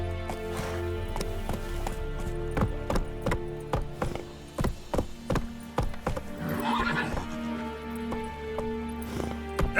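Geralt's horse Roach from The Witcher 3 gallops with steady, loud clip-clop hoofbeats and a clear neigh or whinny, close and continuous, with no talking over the running.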